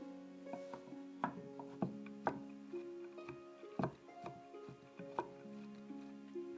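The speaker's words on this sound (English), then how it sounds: "Roughly cut the fermented black beans." A knife roughly chops fermented black beans on a board, giving a quiet, irregular run of sharp taps and thuds, some spaced and some in quick clusters. No one speaks.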